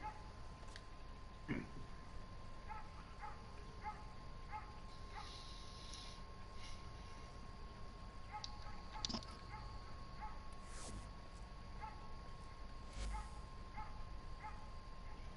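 A dog barks faintly in the distance, short repeated yaps half-buried under a steady indoor hum and room noise, with no one talking.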